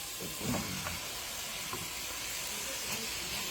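Beef on the bone goes into a pot of simmering beef and bean soup, a soft low thump near the start and then a steady, even hiss of bubbling and steam.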